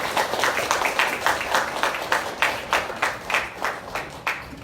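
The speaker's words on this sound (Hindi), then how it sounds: "बजाओ ताली अपने लिए।" An audience at a church service breaks into steady rhythmic clapping, many hands together at a brisk, even pace with no talk over it.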